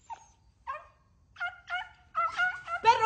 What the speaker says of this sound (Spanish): Perro, ¿quieres guardar silencio?